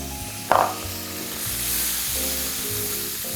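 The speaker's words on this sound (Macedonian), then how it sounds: "во истата тава одат зелени маслинки, повторно и нив ќе ги стоплиме" Green olives hit a hot frying pan with a sudden loud sizzle, then settle into a steady crackling fry that carries on alone with no one talking.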